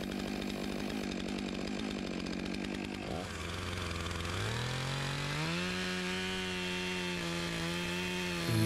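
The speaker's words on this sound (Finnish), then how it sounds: "tässä onkin sitten kaatosahaus jo käynnissä" A chainsaw makes the felling cut through a standing tree, the engine running loud and close with a steady roar that bogs briefly and then settles to a lower, even pitch as the bar cuts deeper.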